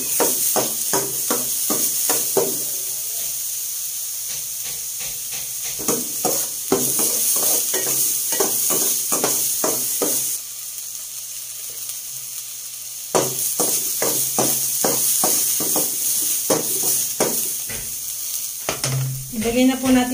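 Garlic and onion sautéing in a pan, a steady sizzle running throughout with rapid scraping and tapping of a spatula in bursts, close up, with a short voice near the end.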